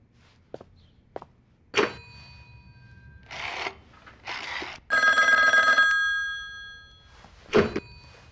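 A telephone rings in a Chinese anti-Japanese war kung fu film. One clear, sustained electronic ring sounds alone between muffled footsteps, shuffles and soft thuds in a quiet room.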